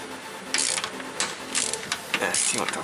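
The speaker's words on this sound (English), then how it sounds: "with the extension and with the Allen wrench 5, you can go ahead and remove them like that" A ratchet on an extension turns oil pan bolts on a Dodge 3.5L engine, giving several short bursts of quick clicking pawl ticks with small pauses between them, up close.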